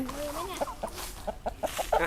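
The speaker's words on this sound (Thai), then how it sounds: "ต้องเอาอะไรให้ไก่กิน" Chickens cluck and squawk close by in short bursts while they are being fed, with people talking over the flock.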